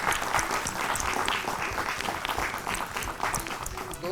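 Loud applause from a group fills the whole stretch as dense, even clapping at a steady level.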